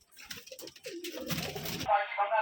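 Pigeons coo at a Rajshahi pigeon farm, low throaty calls rising through the second half and growing steadily louder over rustling and other farm noise.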